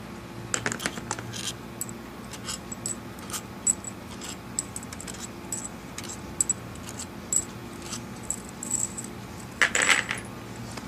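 Bolts come out of a BMW 5HP19 automatic transmission valve body, with scattered sharp metallic clinks, taps and rattles close by at an irregular pace, a brief busier cluster near the end, and no talking.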